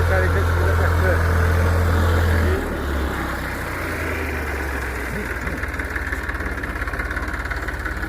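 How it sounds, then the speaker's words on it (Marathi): A Massey Ferguson 45 HP tractor idles in an orchard with a steady low chugging rumble close by, pitch dropping slightly partway through, while a person talks over it. "ह्या ट्रॅक्टरवर बघा मॅसी फर्ग्युसन 45 HP ट्रॅक्टर."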